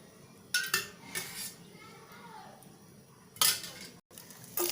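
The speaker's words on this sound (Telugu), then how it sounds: "స్టవ్ వెలిగించుకొని ప్యాన్ పెట్టుకున్నాను ఇప్పుడు కొంచెం ఆయిల్ వేస్తున్నాను" A pan set down on a lit stove with a little oil poured in while cooking a capsicum and gram-flour curry, giving a few sharp metallic clanks and clinks between quieter stretches, close and fairly loud.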